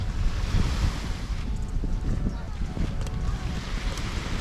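Waves wash onto Empurancak beach in Jepara, a continuous loud roar of surf mixed with heavy wind buffeting the microphone.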